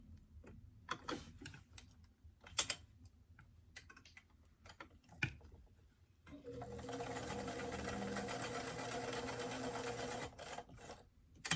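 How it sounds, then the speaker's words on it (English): Sewing machine zigzag stitching on doll pants, a steady mechanical whir running for about four seconds after several sharp clicks and taps of fabric handling. "So I'm just going to take a quick zigzag right there as well."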